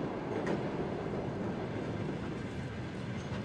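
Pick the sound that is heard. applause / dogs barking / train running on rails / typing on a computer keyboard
train running on rails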